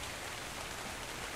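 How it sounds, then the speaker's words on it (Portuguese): Steady rain falls in the video game Dark and Light, a dense, even hiss of drops on surfaces, moderately faint and unbroken, with no voices. "Olha a chuva aí."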